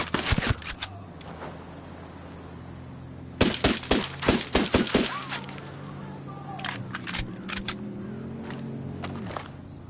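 Gunfire in the Ghost Recon video game: a couple of sharp shots at the start, then a dense volley of cracks in the middle and scattered single shots later, over a low steady background hum.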